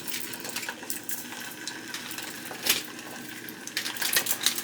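Ice-coated chicken sizzles and crackles in hot oil, an uneven frying hiss with sharp pops and spits bursting out at irregular moments, heard close at a moderate level with no talking.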